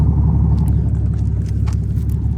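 A pickup truck's engine rumbling hard while its frame and exhaust are stuck, a loud, steady low growl close by with no talk.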